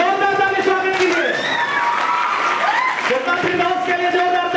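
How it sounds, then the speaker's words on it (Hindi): A school audience at a coaching center farewell ceremony in Patna claps and cheers loudly, with whoops and shouted voices rising above dense, steady applause throughout. "जोरदार ताली स्वागत कीजिए।"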